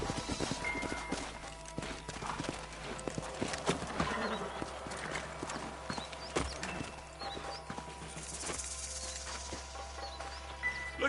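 Horses' hooves clip-clopping at a walk, with an occasional whinny, in the video game Red Dead Redemption; soft, uneven hoofbeats amid quiet game ambience and faint birds.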